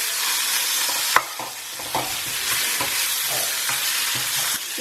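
A spoon stirs potato curry frying in a pan, scraping and clinking against the metal over a constant close sizzle, one sharp knock early on, no voices.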